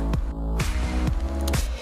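Makeup brush swirled in a soapy water brush cleaner, giving repeated wet squishing and sloshing strokes in quick rhythm, close and fairly loud.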